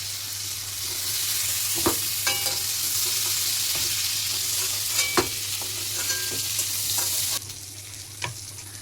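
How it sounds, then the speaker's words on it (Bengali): Potatoes frying in oil in a home kitchen, a loud continuous sizzle with occasional spatula clicks and scrapes. Near the end the hiss suddenly drops to a quieter level, and no one speaks. "ওই তেলের মধ্যে আমি আলুগুলো ভেজে নিচ্ছি"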